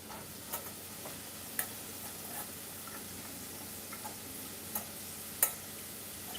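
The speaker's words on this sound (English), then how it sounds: "Looking nice and beautiful and sizzly there." Dill stems frying in a pan, a faint steady sizzle with a few sharp clicks and taps scattered across it, quiet and without speech.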